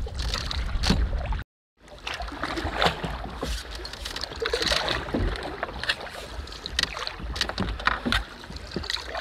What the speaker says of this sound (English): Your first paddle of the year.